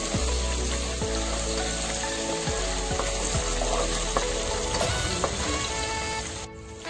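Mustard seeds, ginger paste, chopped garlic and curry leaves sizzle loudly in a hot pan while being stirred, a constant crackling fry punctuated by regular scraping taps of the spoon, with no one speaking.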